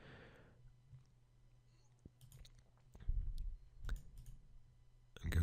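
Computer mouse clicks sound while opening folders on a desktop, a few sharp isolated clicks close by over a quiet low background hum.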